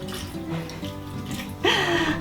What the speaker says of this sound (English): So I'm gonna water them.